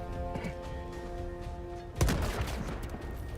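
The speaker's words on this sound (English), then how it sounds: "Throwing grenade." In the video game Helldivers 2, a grenade explodes partway through as a single sudden burst with a deep thump. It rises out of steady battle noise and rumbling gunfire that keeps going afterward.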